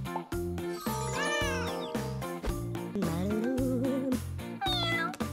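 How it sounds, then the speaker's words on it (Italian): A kitten meowing in a children's doll-play cartoon scene, heard as several rising and falling cries over continuous background music. "Che gatto meraviglioso!"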